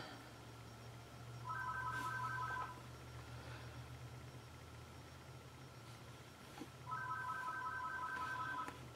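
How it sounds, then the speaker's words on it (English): A telephone rings indoors in two separate bursts of rapid electronic trilling, each about a second long and several seconds apart, fairly faint over a low background hum. "Sorry about the phone ringing."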